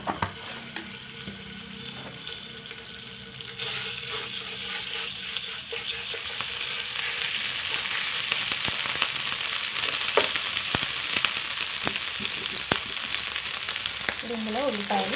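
Ginger garlic paste frying in hot oil for an egg masala dosa, a steady broadband sizzle that intensifies after a few seconds and runs throughout, close and fairly loud, with occasional clicks of stirring and a few faint tonal squeaks near the end.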